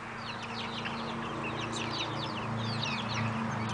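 Backyard flock of chickens including barred rocks and Araucanas, with clucks and short calls scattered over steady low background hum, fairly close and moderately quiet.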